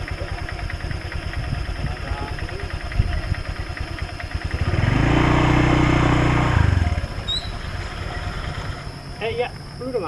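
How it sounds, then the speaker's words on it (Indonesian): A motorcycle engine idles with a steady mid-pitched throb, swelling into a louder, rougher rev for a couple of seconds before settling back, while people talk over it. "Naik motor dari Wadung."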